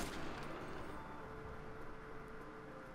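Rapid gunfire from the strongest gun in the video game Far Cry 4, fired at a Rhino: a dense run of shots over rumbling game noise, fairly faint and with no talk.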